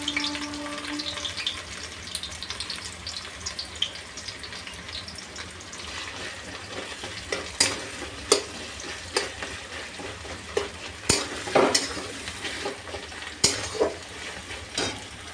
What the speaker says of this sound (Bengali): কড়াইয়ের তেলের মধ্যে পেঁয়াজটা আমি আগে একটু রেস্তা করে তারপরে তুলে রাখবো